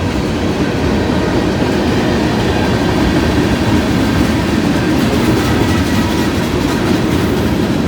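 Two freight trains pass on rails, one hauled by six locomotives and the other running with a distributed power unit, making a loud, steady, close rumble with continuous clickety-clack of wheels on track and no voices.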